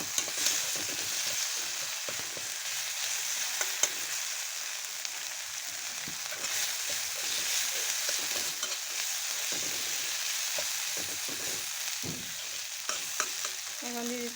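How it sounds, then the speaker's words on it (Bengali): Ginger, garlic and cumin paste with salt, turmeric and chilli powder fries in a pan with a constant, close, hissing sizzle, joined by occasional soft stirring scrapes throughout. "এখন মশলাটা আমি ভালো করে ভেজে নিচ্ছি।"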